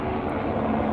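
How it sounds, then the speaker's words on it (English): Police helicopter passing overhead, a steady broad drone of rotor and engine noise, fairly loud and continuous throughout with no talk. "It's a police helicopter"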